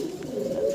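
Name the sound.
Giribaz pigeon chicks calling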